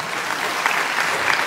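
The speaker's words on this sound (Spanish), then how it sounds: "Vamos a brindar un fuerte aplauso" Steady, dense applause from a crowd at a quinceañera, continuous clapping throughout at a fairly loud level with no voices standing out.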